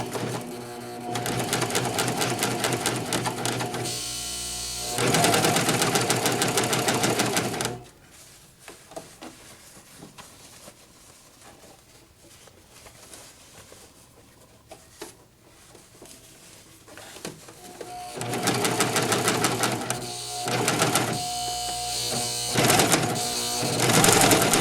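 A Singer Professional 5 sewing machine runs in loud, rapid stitching bursts while trying to sew over a thick lump of fabric, stopping for a long quiet stretch with faint handling noises, then stitching hard again.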